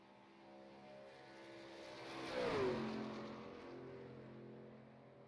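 Race truck in a sim racing truck series, engine note rising as it approaches, peaking loudly with a falling pitch sweep as it passes close, then fading into a steady drone, no talk.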